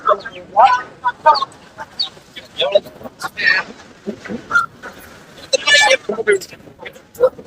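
Roosters and hens cluck and crow at a busy outdoor weekly market in Kunnathur, Tiruppur district, Tamil Nadu, mixed with people talking nearby and general market bustle.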